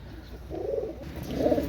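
Pakistani high-flying pigeons cooing close by, two soft, throaty cooing phrases in quick succession with no talking.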